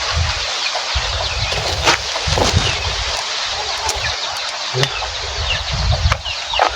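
Chickens clucking around a poultry area outdoors: scattered clucks and calls over a constant wind-like hiss, moderately close, with no talk.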